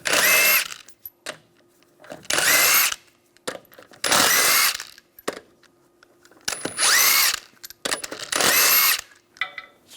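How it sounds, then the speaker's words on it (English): Impact gun spinning lug nuts off a wheel of a 2004-2009 Toyota Prius with a 21mm socket, five loud buzzing bursts of about a second each, separated by short gaps with faint clicks and handling noise. "Take the wheel off using a 21mm socket."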